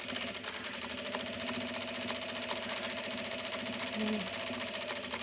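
A sewing machine stitches around a jacket piece with a steady, continuous whirring hum, close and loud, and a brief faint tone rises near the end.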